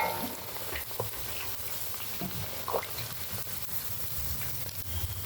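Chicken pieces fry in hot oil for a chicken pickle, a dense, steady crackling sizzle with occasional pops and stirring scrapes, close and continuous throughout.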